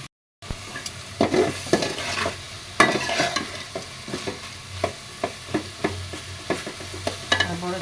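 Red amaranth greens fry with garlic and green chili in a pan, a steady sizzle broken by repeated stirring scrapes and clinks of a utensil, close up and without speech.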